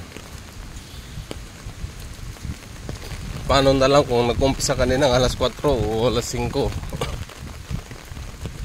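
Steady patter of rain on a surface throughout, just starting in the morning, with someone talking over it in the middle stretch.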